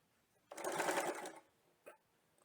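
A sewing machine stitches a zip in one loud, close burst of rapid mechanical chatter lasting about a second, followed by a brief softer tap.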